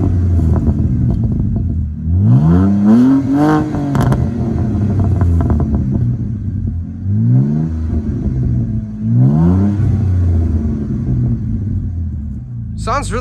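A BMW E90 328i revs through its exhaust in a few rising and falling bursts over a steady idle rumble, loud and close, with people talking between the revs.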